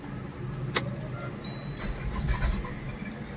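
Suzuki Baleno car engine starting with an unwanted noise, a brief sharp crank click followed by the engine catching into a low, steady idle rumble, heard close and alone.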